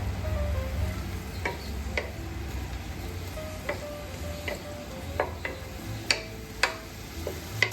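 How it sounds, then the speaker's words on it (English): Small tomatoes frying in a pan of mushroom sauce, a steady soft sizzle with occasional light ticks and stirring clinks, close and even throughout. "then I will put the little tomatoes. Let that cook."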